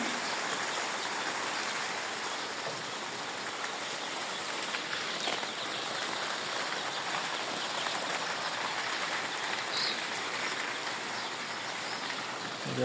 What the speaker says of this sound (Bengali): মনে হয় বৃষ্টি হইতেছে।